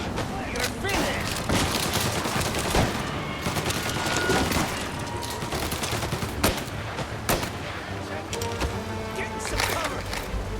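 Tommy gun bursts in the Mafia video game, dense and rapid firefights with repeated sharp reports over a busy battle mix, voices shouting now and then.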